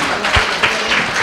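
Audience applause at a school Independence Day celebration, a brief burst of dense clapping at moderate distance, lasting just over a second.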